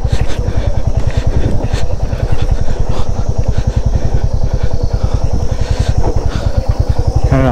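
A motorcycle with ABS rides a badly broken, dangerous mountain road between Ghandruk and Jomsom in Nepal, its engine thudding loudly and steadily close up throughout, with rattling clatter over the rough surface.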